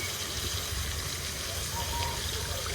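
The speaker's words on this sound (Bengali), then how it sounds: "এখন আমি অল্প একটু পানি দিলাম, নাহলে কড়াইয়ের নিচে লেগে যাব।" A steady, close rush of a small amount of water poured into a frying pan of chicken curry, a continuous hissing splash that holds an even level throughout.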